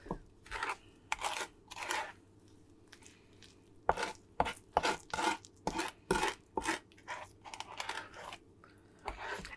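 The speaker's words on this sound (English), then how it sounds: "I'll go ahead and actually start mixing that in a little bit." Cinnamon roll dough from a great-grandmother's old woodstove cookbook recipe being mixed by hand, with repeated close, uneven scraping and thudding strokes in irregular bursts and brief pauses, no talking.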